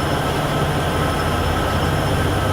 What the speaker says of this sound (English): Max grain trains.